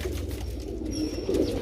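A pigeon coos softly with low, throaty rolling calls close by, over faint background noise.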